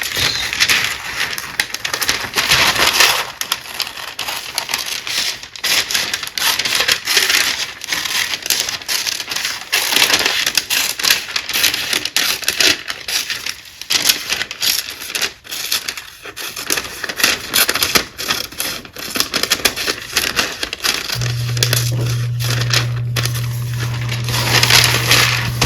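Kitchen shears cutting out paper shapes for a sugar-free cake, a steady run of close crunching snips and crinkles, loud and continuous with no talking.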